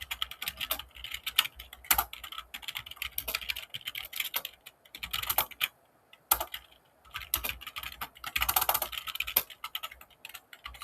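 Someone types code on a computer keyboard in rapid, irregular bursts of close key clicks with brief pauses between runs, alone and without talk.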